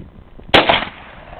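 A single sharp gunshot from a big gun fired outdoors by a small girl at target practice, a sudden loud crack with a brief ringing decay, no talk.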